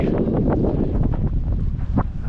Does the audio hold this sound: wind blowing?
yes